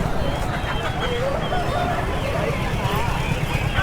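Roosters and country chickens, including fighting cocks, cluck and crow at a busy poultry market, heard under steady nearby talking and general crowd bustle.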